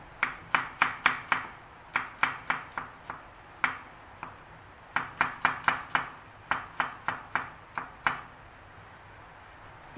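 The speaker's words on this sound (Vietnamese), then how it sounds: "Trước tiên là mình đi băm hành tím." Purple shallots are minced with a knife on a board, each crisp chop landing in quick clustered runs with short pauses between, close and alone without talk.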